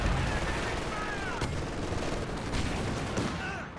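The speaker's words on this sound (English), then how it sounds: "Incendiary rounds activated, shredding that squad." Incendiary rounds in the Company of Heroes 2 real-time strategy game, a dense continuous crackle of rapid gunfire and scattered impacts over a busy battle din, steady and loud throughout.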